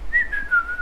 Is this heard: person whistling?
yes